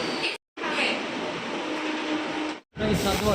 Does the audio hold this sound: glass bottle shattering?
no